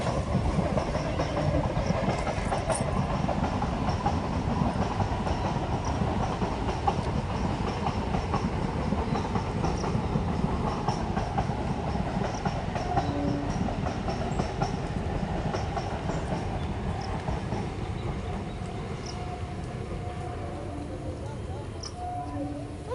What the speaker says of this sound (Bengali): ওই দেখো এদিকে আবার ট্রেনও চলে এসেছে